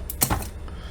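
A garlic bulb resting on fingers being cut with a blade, giving a single short, crisp crunching snip up close followed by quiet.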